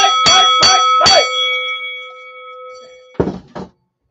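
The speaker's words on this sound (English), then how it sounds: "I'm ringing the bell again." A bell rung three times in quick succession, bright ringing strikes with a long sustained tone fading out, followed by a couple of dull thuds; no talking over it.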